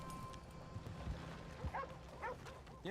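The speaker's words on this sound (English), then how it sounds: "Doggy." A dog in Red Dead Redemption 2 gives a few short, faint barks and yips against quiet game ambience, with brief whimpering sounds mixed in.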